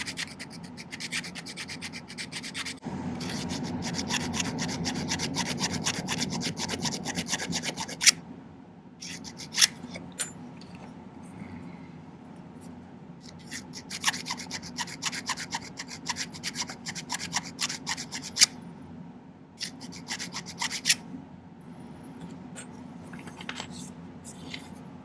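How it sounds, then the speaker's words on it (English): A small flat jeweler's file scrapes excess solder from the inside of a silver band joint, a soft continuous rasp of quick strokes at close range, easing into lighter intermittent filing with small clicks and pauses. "next I'm going to go through and file off any excess solder on the inside"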